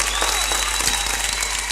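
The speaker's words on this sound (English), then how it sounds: "Give yourselves a round of applause." A studio audience at a television tonight show gives a short burst of dense, steady applause. The clapping is close and fills the whole brief moment without a break.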